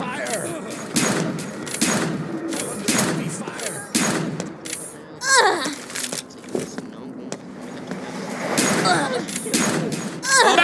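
Gunfire fills a video game battle: repeated thumping shots and scattered bursts at irregular intervals, some loud and close, heard under a talking voice.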